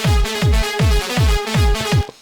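Trance kick drum with a sustained synth chord, played without sidechain ducking, so the punchy, evenly spaced kicks thump under a constant, bright synth that never dips, about five hits before the sound cuts out.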